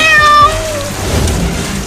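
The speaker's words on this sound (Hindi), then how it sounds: "वो देख, एक बड़ी बिल्ली भी आ रही है वाटर पार्क में।" A cartoon cat meows at a water park, a short tonal cry at the start followed by a steady wash of splashing water in the background.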